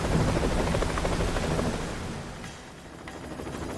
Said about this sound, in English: The helicopter's ready.